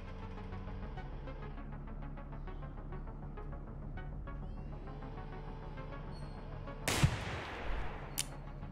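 Two sharp gunshot cracks from Receiver 2 ring out near the end, a loud one followed shortly by a second, after a long stretch of steady low background hum.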